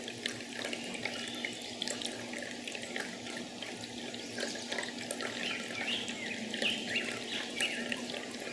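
A bird bathing under running water, with a continuous splashing, tap-like stream and occasional bird calls over the top, steady throughout and close by.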